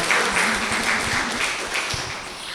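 An audience at a religious gathering gives Jesus a dense, steady round of applause that holds throughout at fairly loud volume, with no clear talking over it.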